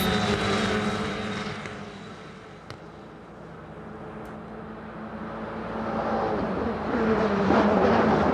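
E4 Championship single-seater race cars run at the Vallelunga circuit, their engines a continuous broad roar that dips slightly, then swells again as the pack sweeps past at a distance.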